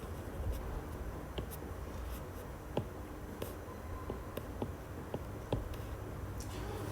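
Chalk or marker board being wiped clean during a mechanics lecture, a soft continuous rubbing under room hiss with a few faint taps and ticks, no talking.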